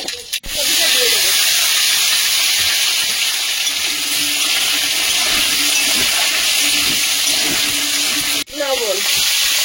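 Kohlrabi and potato pieces frying in hot oil in a home kitchen pan, giving a loud, steady broadband hiss that runs almost unbroken, with brief dips near the start and end and faint background sounds underneath.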